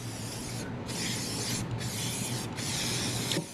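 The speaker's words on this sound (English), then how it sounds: "while I'm spraying the whole Ryker down" Water spraying from a hose onto the tires of a Can-Am Ryker three-wheeled motorcycle during cleaning, a steady close hiss with brief pauses as the spray moves.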